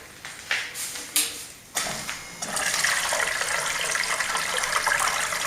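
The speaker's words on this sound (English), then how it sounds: "So I'm going to turn this on now so you can see the water flow." Water runs through a gold sluice station used for fine gold cleanup: a few short splashes and gurgles come first, then the flow is switched on fully and settles into a loud, steady rush of running water, close by and with no talking.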